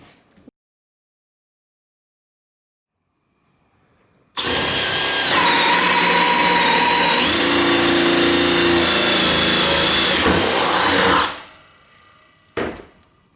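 A Makita DHP481Z 18V LXT combi drill bores into a ceiling joist, starting after a long quiet stretch with a loud, continuous whirring grind that runs about seven seconds, then winds down, followed by a brief knock.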